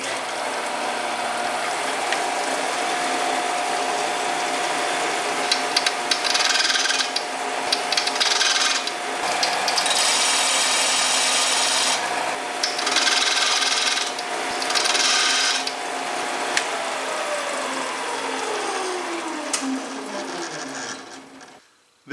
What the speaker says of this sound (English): I'll be grinding each cutter to the same thickness so that the bit stays in balance